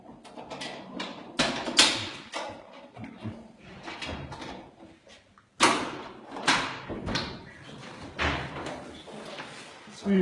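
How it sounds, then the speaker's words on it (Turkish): Heavy thumps and bangs strike a door as people try to force it open, arriving in irregular bursts with sharp impacts and rattling, close by, with voices talking in between. "Şu anda kapıyı kırmaya çalışıyorlar."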